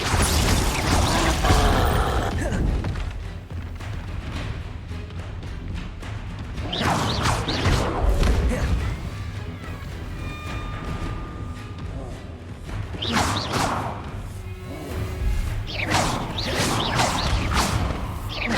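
Spells like Protego and Confringo are cast in a Harry Potter video game, with whooshing magical bursts, thuds and mechanical game effects in repeated waves, while a voice calls out the spell names.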